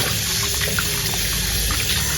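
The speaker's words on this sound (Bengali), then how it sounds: "এই চিকেনগুলোকে ধুতে হবে এখন ভালো করে।" Tap water runs steadily over raw chicken pieces being washed, a continuous close splashing trickle with faint handling sounds.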